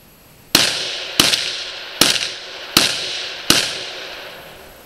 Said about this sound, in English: I'll be shooting Norinco M14 right now.